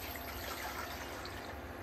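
Four cups of water poured into a pot for a turkey brine, a steady close splashing and filling stream that runs throughout with no talk over it.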